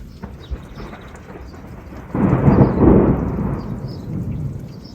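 Thunder from a lightning storm rolls in abruptly, a loud deep rumble that swells, peaks and slowly fades, with faint rain or wind hiss before it and no talking.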